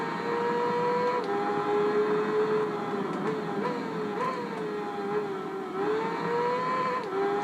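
Engine of a Honda VFR 400R sports bike in a racing video game, a continuous high revving whine that rises and drops with each gear shift, steady and close throughout.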